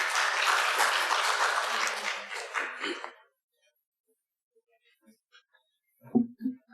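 Church congregation applause, a dense wash of many hands clapping that lasts about three seconds, then fades into near silence before a voice briefly speaks.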